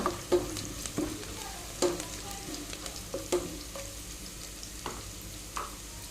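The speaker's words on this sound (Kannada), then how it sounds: "ಇದರ ಹಸಿ ವಾಸನೆ ಹೋಗೋ ತನಕ ಫ್ರೈ ಮಾಡಿಕೊಂಡ್ರೆ ಸಾಕು ಜಾಸ್ತಿ ಫ್ರೈ ಮಾಡೋದು ಬೇಡ" Spices fry and sizzle in a pan with a low steady hiss, broken by a few soft scrapes and taps of a stirring spoon, close and quiet with no talking.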